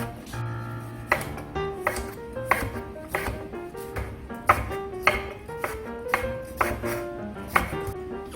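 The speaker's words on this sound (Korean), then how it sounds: "청피망도 네모 모양으로 썰고 홍피망도 네모 모양으로 썰고" A kitchen knife chops green and red bell peppers into squares for pineapple fried rice, giving a steady run of crisp, close thuds on the board, about one or two per second, with faint background music beneath and no talk.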